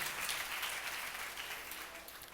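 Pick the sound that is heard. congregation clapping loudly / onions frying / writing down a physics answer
congregation clapping loudly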